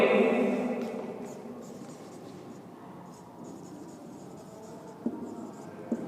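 A pen scratches across paper while a 3×3 matrix calculation is written out by hand, with continuous soft friction strokes and a couple of small taps toward the end, and no voices.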